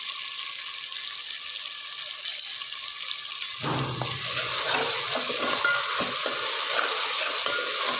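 Chopped fenugreek leaves fry in a pan in a steady broadband hiss, with a stronger crackling sizzle setting in about halfway through, alongside faint stirring scrapes.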